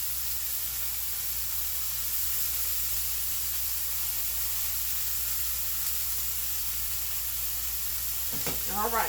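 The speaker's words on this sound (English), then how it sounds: "we got that broccoli in there sizzling" Broccoli frying in a hot pan gives off a steady, close sizzle and hiss that holds constant throughout, and near the end comes a brief clatter.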